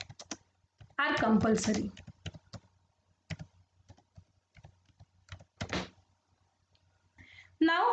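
Keys clatter on a computer keyboard while a quiz question is entered into a Google Form, brief bursts of close clicks scattered between moments of someone talking.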